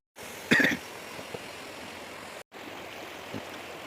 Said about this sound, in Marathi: फुल पाणी चालू एकदम स्पीडमध्ये पाणी येत आहे